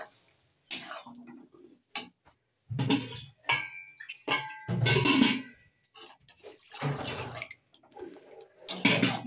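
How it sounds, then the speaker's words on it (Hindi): Two cups of water are poured in short bursts, splashing into a pot of egg curry, with pauses and a few clinks between pours. "पानी डाल देते हैं 2 कप।"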